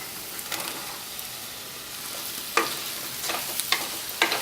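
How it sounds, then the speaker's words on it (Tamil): Fried potatoes being stirred into a spiced potato biryani masala with garam masala in a pan, giving soft scraping and light sizzling with several sharper spoon clinks near the end, fairly quiet throughout. "இதெல்லாம் சேர்த்து இப்படி கிண்டிடலாம். இதில் நம்ம வறுத்து வச்சுருக்க உருளைக்கிழங்கை சேர்த்துடலாம்."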